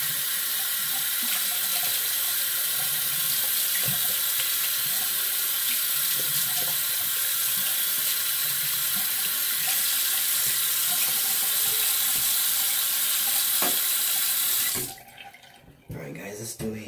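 Water pours steadily and loudly from a tap while a shaving razor is rinsed and brushed off under it, a constant close hiss that cuts off near the end, with speech underneath.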